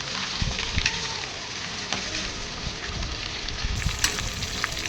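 Chicken pieces for chilli chicken sizzle and crackle steadily in hot oil, a dense continuous frying hiss with occasional sharper pops, close and fairly loud throughout.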